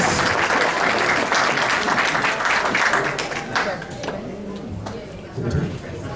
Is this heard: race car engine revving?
no